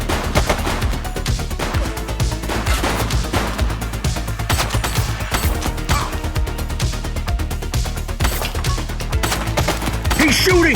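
Sustained rapid gunfire from the police video game The Precinct, a dense, loud, continuous barrage of shots with music underneath.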